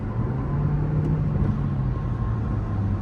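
A 2020 Toyota C-HR engine drones at full throttle, a steady loud low hum with road rumble heard from inside the cabin, unchanging throughout.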